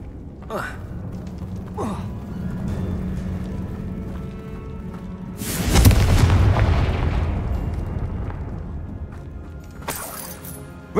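A Confringo fire-blast spell goes off in a Harry Potter video game as a sudden loud burst, a booming explosion that swells mid-clip and trails off, with softer game sounds before and a short bright blast near the end.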